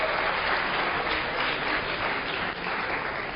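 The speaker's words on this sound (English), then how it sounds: "Let's have a round of applause, Patrick." Audience applause in a lecture hall, dense steady clapping from many hands that carries on evenly for several seconds with no talking.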